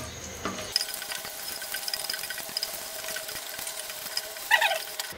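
Spices get stirred into an amra (hog plum) pickle in a pan, with light scraping and soft clinking of a spoon against metal and a faint background hum, ending in a brief sharper clatter.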